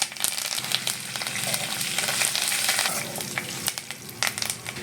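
Chana dal, dried red chillies and curry leaves frying in hot oil, a continuous crackling sizzle with sharp pops and stirring clatter, fairly close and alone.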